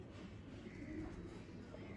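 Breeder pigeons in a loft give a soft, low coo near the middle, faint and brief against a quiet background hum.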